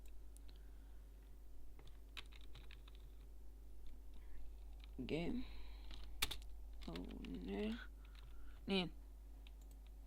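Soft, quick tapping on a computer keyboard plays steadily in a quiet room. Someone speaks briefly between the bursts of keystrokes.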